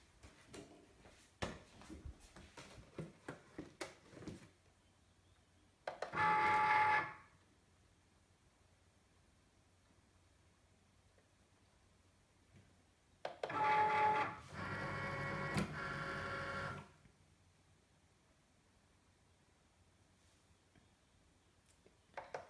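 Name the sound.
cutting machine cutting with new blade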